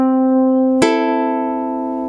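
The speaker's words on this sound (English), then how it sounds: "we're just going to start by practicing by going down with our thumb and then up with our index finger and middle finger at the same time" A ukulele plucked with the thumb going down and the index and middle fingers coming up, one held note then a bright new pluck that rings on and fades over a second, close and clear with no talk.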